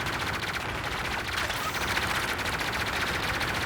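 Rapid automatic weapon fire from a Call of Duty: Infinite Warfare gun rattles on continuously, a dense, steady stream of shots filling the whole stretch at moderate loudness.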